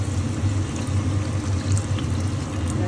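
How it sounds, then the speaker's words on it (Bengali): Water pours into a cooking pot of simmered vegetables and spices in a home kitchen, a steady close gurgling stream that runs unbroken for the whole few seconds without any talk. "আমি জল দিয়ে দেবো"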